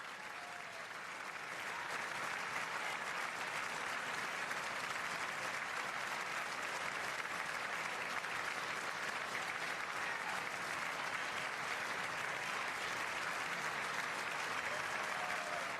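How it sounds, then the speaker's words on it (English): Sustained, dense applause fills a large chamber at the State of the Union, a steady wash of many hands clapping that swells in the first two seconds and then holds at an even level without letup. "Okay, we've probably had enough clapping."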